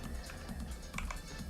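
Quick, uneven clatter of keys on a computer keyboard, a short burst of close, light taps with no talking.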